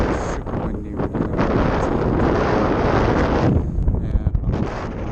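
Strong gusty wind buffets the microphone at an RC model airfield, a loud roaring rumble that swells and dips with the gusts throughout, no talk.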